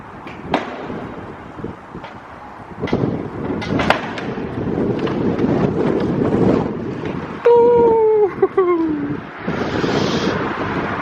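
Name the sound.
wind blowing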